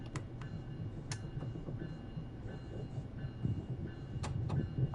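A locomotive runs in the railway simulator game Train Sim World 4, giving a steady low rumble and rolling drone with a few sharp metallic clicks and squeals, and no talking over it.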